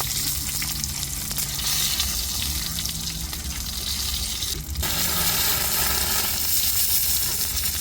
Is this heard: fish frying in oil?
yes